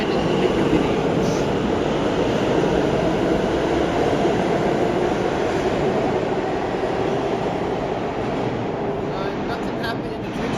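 A New York City subway train in a station gives a steady, loud rumble and rush that holds unbroken throughout, with faint background voices.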